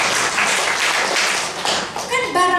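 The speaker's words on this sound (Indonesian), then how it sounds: "Tepuk tangan." A church prayer-service congregation claps in a dense, steady wash of applause, with voices joining in toward the end.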